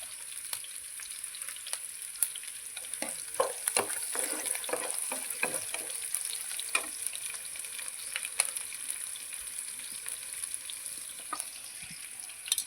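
Ingredients fry lightly in a pan with oil and curry leaves for gooseberry dal, giving a steady soft sizzle with scattered crackles and pops, plus occasional clinks of stirring, close and continuous without talk.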